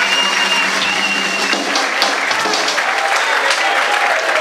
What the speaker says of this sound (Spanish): Y la trompeta Ale Martín, fuerte el aplauso.